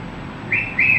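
A pet cockatiel gives two short, bright, high whistled chirps close by, one after the other, in an otherwise quiet room.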